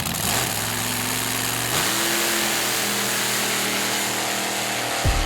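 Open class mud truck engine revving hard on a drag run at a mud bog nationals event, a loud continuous roar with rising and falling pitch that swells near the end.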